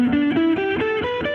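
Distorted electric guitar plays a melodic line of sliding, sustained notes with a thick, harmonically rich crunch, loud and up close with no voices.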